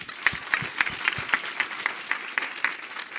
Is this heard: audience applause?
yes